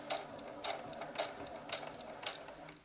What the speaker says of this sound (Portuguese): levanta o pezinho de máquina, acerta ela de novo e costura ela até o finalzinho dela